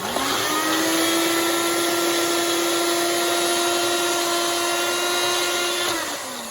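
A food processor mincing onion and garlic runs as one loud, continuous whirring drone of motor and blade, holding steady for about six seconds and then cutting off.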